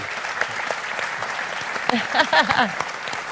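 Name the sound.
audience applause for Lisa and Matthew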